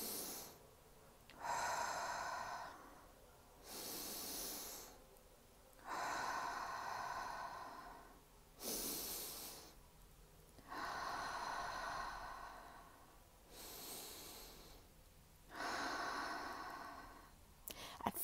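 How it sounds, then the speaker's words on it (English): Deep belly breathing exercise: four or five slow, loud inhalations through the nose, each lasting about two seconds, spaced by quiet pauses in a steady rhythm, close to the microphone with no talking. "So it's a big breath in."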